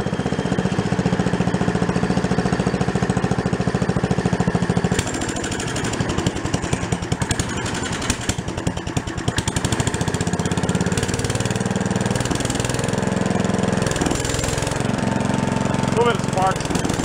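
An old log splitter's small engine, abandoned for ten years, idles loudly and close with a rough, uneven chugging, revving and knocking for a few seconds midway before settling back to a steady idle; a voice speaks briefly.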